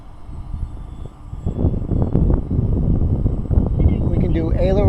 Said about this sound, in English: I'm guiding the plane exactly where I want it, and we're going to put it down literally right in front of us.